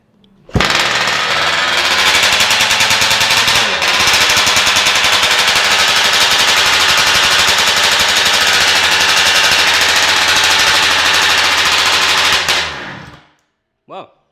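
A two-stroke RC gas engine fires on a single pull and runs at a loud, rapid, rattling idle for about twelve seconds, briefly dipping once, then dies away with a short trailing clatter.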